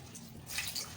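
Wet coconut chaff squeezed by hand with added water, short squishy, splashy liquid sounds heard close up with no talking.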